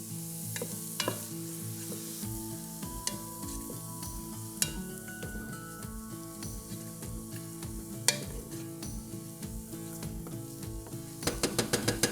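Onions and garlic sizzling in a pot as the base for a spinach tortellini soup. A continuous hiss runs throughout, broken by frequent utensil taps and scrapes, with a quick run of clicks near the end.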